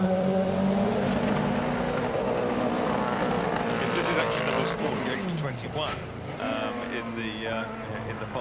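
A 1980s Arrows BMW Turbo Grand Prix car at a hillclimb speed event roars loudly nearby, its engine note dropping as it passes and fades, under a commentator's voice.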